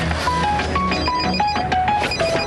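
A telephone rings in a 1997 French TV advert, a bright repeated electronic ring pattern sounding loudly and continuously for a couple of seconds.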